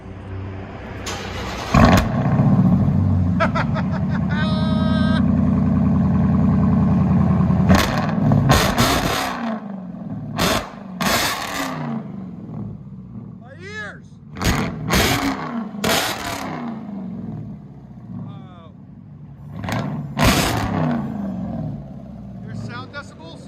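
A Dodge Hellcat V8 with its resonators and mufflers removed, idling loud and raw, then hit with a series of sharp, very loud throttle blips and revs, heard close with voices talking between the bursts.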